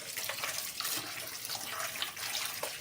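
Tap water runs steadily into a bowl of cut chicken meat set to soak in cold water, a close, continuous splashing hiss with no voices.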